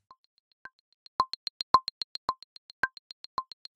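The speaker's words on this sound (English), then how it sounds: "And of course the overall volume of the entire metronome." Logic Pro X metronome clicks tick out a steady beat, a soft high tick on each count with louder, deeper accented clicks marking the downbeats, clean and alone.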